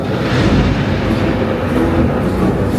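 Thunder effect booming through a Universal Studios stage show set in a hurricane scene: a loud, continuous deep rumble with no break, nearby and filling the whole stretch.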